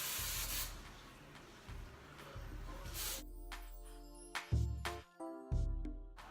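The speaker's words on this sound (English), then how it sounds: "And just give it a little spray." Suave hairspray from an aerosol can sprayed onto long hair, giving a few short bursts of hissing spray alone, close and fairly loud, with brief pauses between.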